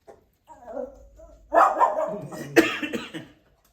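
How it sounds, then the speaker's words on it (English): A neighbor's dog barks outdoors, starting with a few softer whimpering yelps and then breaking into louder, rough barks, fairly close and with no talking over it. "it's the neighbor's dog."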